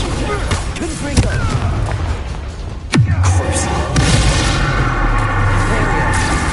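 Confringo spell explosions go off in Hogwarts Legacy. Sharp, booming blasts land at intervals, with the strongest hitting mid-clip, followed by a rumbling tail and ongoing game noise.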